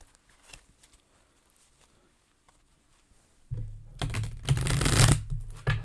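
Tarot cards being shuffled close up, a short loud burst of riffling and slapping after a few seconds of near silence, with no talking.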